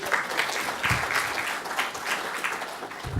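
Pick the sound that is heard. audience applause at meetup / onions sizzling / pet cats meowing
audience applause at meetup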